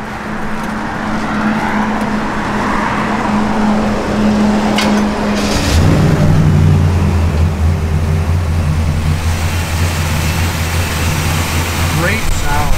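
A 1967 Pontiac LeMans convertible engine idles with a steady low rumble that deepens and strengthens partway through, while people talk over it.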